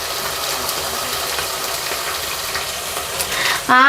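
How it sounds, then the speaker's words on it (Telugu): Ginger paste, onion and curry leaves frying in oil for a mutton curry, a steady hiss of sizzling throughout, with a brief louder scrape or stir at the very end. "అల్లం పేస్ట్ ఉల్లిగడ్డ కరివేపాకు అయితే నూనెలో బాగా మంచిగా మగ్గుతుండది"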